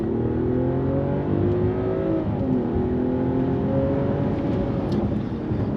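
A 2022 Mercedes-Benz S500 accelerates hard from a standstill, its engine note climbing steadily and loud, close up and alone with no talk over it.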